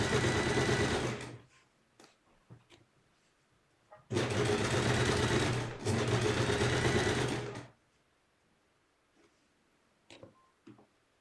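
Sewing machine stitching piping around a fabric corner, with two loud bursts of rapid needle whirring separated by pauses, the second burst longer, then soft clicks and handling noises as the fabric is turned.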